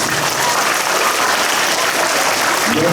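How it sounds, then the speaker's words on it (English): Pupils at an upper primary school assembly give a big round of applause for a classmate, a loud, dense, continuous clapping with faint crowd murmur beneath. "Let's give Clara a big round of applause"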